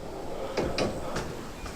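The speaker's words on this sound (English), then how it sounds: "I've got this trundle drawer." A trundle drawer fitted with gas struts sliding open, a few soft thuds and slides over about a second, quiet and fairly close.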